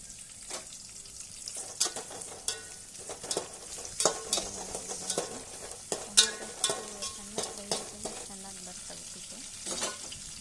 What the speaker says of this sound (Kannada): ಟೊಮಾಟೊ ಹಾಕ್ಕೊಂಡು ಅದನ್ನು ಸ್ವಲ್ಪ ಫ್ರೈ ಮಾಡಿ.